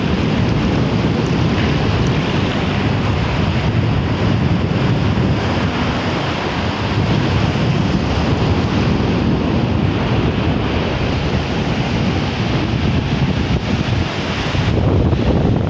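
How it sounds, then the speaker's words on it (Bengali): Steady roar of ocean surf mixed with heavy wind buffeting, loud and continuous throughout with no voices. "কত সুন্দর ঢেউ দেখেন।"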